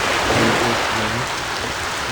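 Rain pours steadily in the raft survival game Survival On Raft, a loud, continuous hiss of falling water that stays even from start to finish, with no voices.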